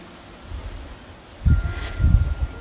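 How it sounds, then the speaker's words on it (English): Wind stirs leaves in New Zealand bush, a soft rustling bed with two louder low gusts buffeting close to the microphone. "So windy."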